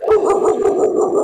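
A dog barks repeatedly in quick succession, several sharp close barks in a steady rhythm within about a second, loud and alone.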